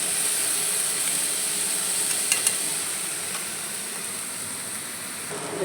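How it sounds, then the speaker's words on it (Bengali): Mixed vegetables frying in a pan for vegetable rice, giving a steady, close sizzle with a constant hiss and a few faint clicks of stirring, with no talking. "দেখুন ভাজা হচ্ছে"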